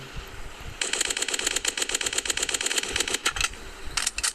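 Rapid automatic gunfire in the video game A Dusty Trip, played on a phone: a fast, even clatter of shots lasting nearly three seconds, a short pause, then another brief burst.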